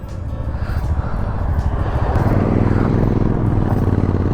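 Motorcycles set off on a mountain road toward Harsil in Uttarakhand, their engines rumbling low and building in loudness as they pull away nearby, with no talk over them.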